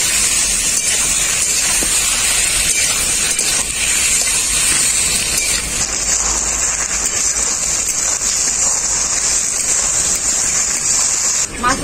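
Sliced mushrooms frying with onions in a hot pan, a loud continuous sizzling hiss that stays steady throughout, with a voice talking over it.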